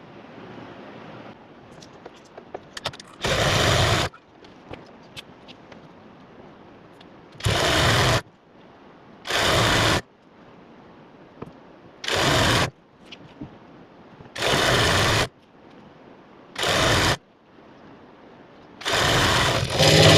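A sewing machine stitches elastic onto fabric for a women's summer suit, running in seven loud, steady bursts of a few seconds each, separated by quieter pauses with faint handling noise.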